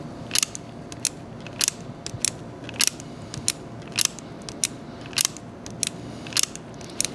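An antique revolver's cylinder is cycled by hand, giving a steady series of sharp, crisp metallic clicks as it indexes and locks up, close and clear with no talking.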